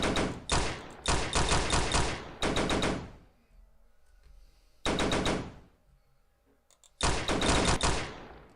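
Automatic gunfire from a self-made video game demo comes in several rapid bursts, each a second or two long, separated by brief quiet gaps. It is loud and close, with no talking over it.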